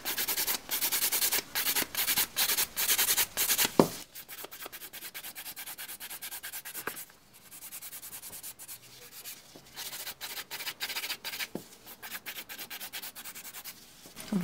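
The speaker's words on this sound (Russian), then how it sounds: "Теперь пилочку выставляю ровно на поверхность и шлифую всю поверхность вот так, как трубочку." A nail file sands the surface of a fingernail during a nail correction, giving rapid, close, rhythmic rubbing strokes that stay steady, then softer and more intermittent after a brief pause.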